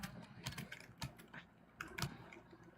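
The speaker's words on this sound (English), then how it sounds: "Becca, Papa, I'm typing and not listening." Quick clattering keystrokes on a computer keyboard, in uneven bursts with short pauses, fairly close and quiet, with no voices over them.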